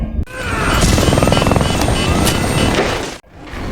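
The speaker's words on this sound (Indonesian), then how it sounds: "Satu persatu helikopter Packard berjatuhan" Loud, steady rotor and engine roar of military helicopters in an action scene from the film Kong: Skull Island, sustained for several seconds before cutting off abruptly near the end.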